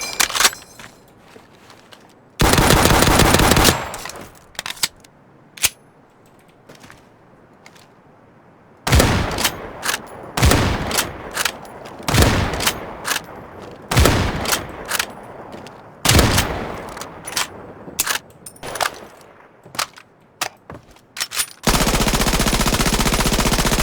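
Rapid WW2 gunfire from the video game Battalion 1944, including the M1 Garand, bursts of loud automatic and single shots separated by brief quiet gaps, close and punchy, with a sustained blast of fire near the end.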